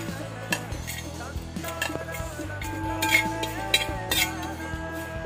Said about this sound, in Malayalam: നമ്മുടെ ഗ്രാമ്പു, പട്ട, ജീരകം എല്ലാം കൂടി ഇട്ടിട്ടൊന്ന് വറുത്തെടുക്കാം